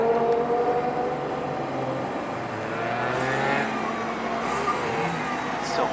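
Stock Mitsubishi Evo 9 MR engine running steadily nearby, a continuous mid-pitched drone with slowly shifting tone and a mild rise in revs partway through, heard alone without talk.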